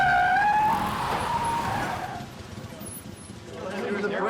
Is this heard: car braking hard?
yes